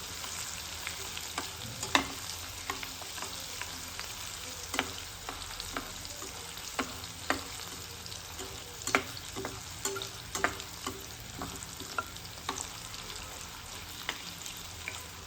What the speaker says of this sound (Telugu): కరివేపాకు వేసుకొని ఒకసారి అయితే కలుపుకున్నామండి.